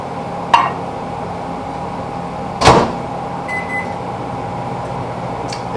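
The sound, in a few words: industrial prison microwave oven running, cooking rice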